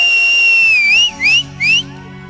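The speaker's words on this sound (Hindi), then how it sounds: "सीटी मार दीजिए।" A person whistles on stage at a Bhojpuri music show, starting with a long steady tone and ending in two short rising swoops. The whistle is loud and close, with a faint background hum and no talk.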